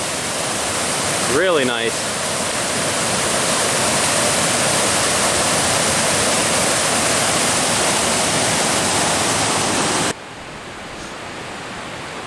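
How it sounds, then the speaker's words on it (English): A waterfall on Seneca Creek roars as a loud, steady broadband rush of falling water that fills the whole clip, with a brief whistle-like sound early on and a short spoken remark near the start. "Here's the best waterfall we've seen so far on Seneca Creek."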